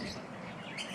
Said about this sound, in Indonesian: Anda dengar kicauan burung kan hari ini kan?